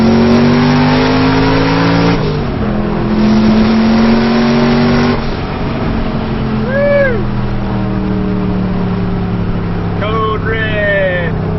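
A Shelby Code Red concept car accelerates hard, its loud engine rising in pitch through gear changes with boosted roar and tire noise, recorded close inside or near the car while people talk over it.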